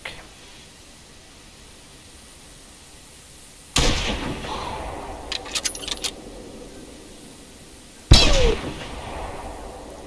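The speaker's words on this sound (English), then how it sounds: "Time to fire, I think." Two sharp, loud rifle shots ring out in theHunter Classic while hunting fallow deer, several seconds apart, each followed by a decaying echo and faint clicks of bolt handling between them.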